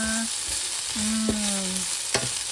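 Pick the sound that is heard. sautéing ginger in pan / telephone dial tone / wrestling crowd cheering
sautéing ginger in pan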